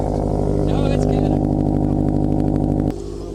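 Loud, steady engine drone of a car fitted with an aftermarket, likely uncatted exhaust, holding a raised rev at an outdoor car meet before dropping back to a lower idle near the end.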